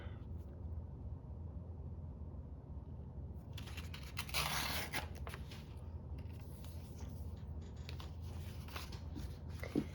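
Collage paper is trimmed with scissors: faint, quiet snips and crisp cutting bursts, close up against a soft background hum, with one louder rustling cut near the middle.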